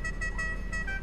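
A car horn honks continuously in a Need for Speed racing game, a steady, loud blare with bright harmonic tones held throughout, with engine rumble underneath.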